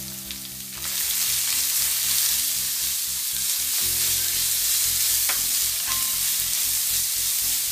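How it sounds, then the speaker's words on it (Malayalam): Finely chopped ginger sautés in a pan for an Onam-style puli inji, a steady loud sizzle throughout with occasional stirring scrapes, no talking. "നന്നായിട്ട് വഴറ്റി കൊടുക്കാം"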